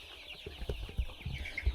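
Thirty-five-day-old layer chicks cluck softly in short, scattered calls over a low, muffled background, the sounds close by and fairly quiet.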